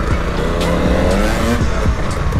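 A Beta 300L two-stroke dirt bike engine revving hard on a trail, close and loud, with the pitch rising and falling through throttle changes and no talking.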